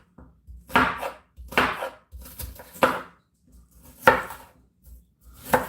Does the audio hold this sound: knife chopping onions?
yes